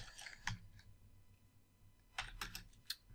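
Keystrokes on a computer keyboard while entering a keyword into a page URL, a quiet burst of clicks at the start and a second cluster of faint taps near the end, with near silence between.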